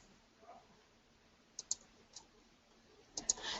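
Mouse clicks on a computer, a few sharp isolated taps: a pair around the middle, a single one shortly after, then a quick cluster near the end, all faint over quiet room tone.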